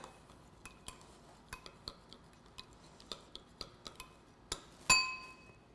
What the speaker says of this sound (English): We can stir it up.